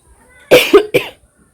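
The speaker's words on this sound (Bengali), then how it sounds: "আর এই সমানে কাশি হচ্ছে একটু একটু করে" A woman who is unwell, with a cold and body pain, coughs in a short, close burst of two or three harsh coughs, followed by quiet.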